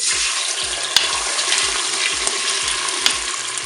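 Eggs hitting the hot bowl of a preheated Cookeo multicooker set up a loud, steady sizzle up close, with a faint rhythmic low tapping underneath and two sharp clicks.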